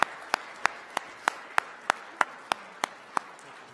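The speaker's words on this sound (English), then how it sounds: "applause again for Earl" Applause at a 2017 awards ceremony, heard here as about a dozen single sharp claps in an even, slow rhythm, spaced roughly a third of a second apart over quiet room tone.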